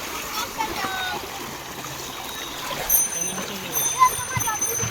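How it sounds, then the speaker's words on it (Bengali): A strong current of floodwater rushes steadily past with broad splashing and gurgling, while a voice talks over it. "এখানে জলের এত স্রোত যে এখানে টেনে নিচ্ছে আমাদের"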